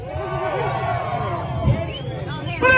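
Spectators at a kids' bike race clamor and cheer in a lively mix of shouts and babble, with children's voices rising over the crowd and a louder burst of yelling near the end.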